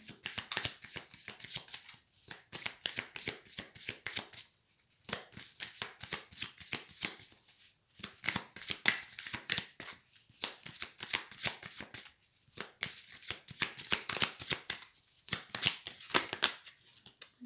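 Tarot cards being shuffled by hand, a steady run of crisp close riffles and slaps repeating for the whole stretch, with brief pauses between bursts and no voices.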